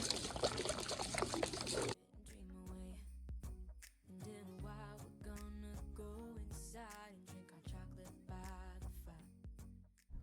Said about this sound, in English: Once you've filled up your tank with water